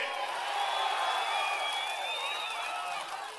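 A large crowd at a TDP political rally in Palakollu cheers and whoops, loud sustained roaring with shrill whistles rising over it, fading slightly at the end.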